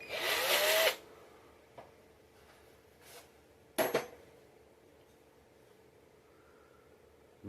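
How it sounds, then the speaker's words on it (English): A power drill boring a hole in wood for nunchaku whirs in a loud burst of about a second, then a shorter grinding spurt follows after quiet gaps with small clicks. "And then I just drill to the first hole."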